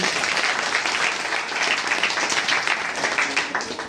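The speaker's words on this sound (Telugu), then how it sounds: "అందరూ కూడా చప్పట్లు కొట్టండి" A church congregation applauds together at a Christmas Day service in Hyderabad, a dense, steady burst of many hands clapping up close, with a faint voice underneath.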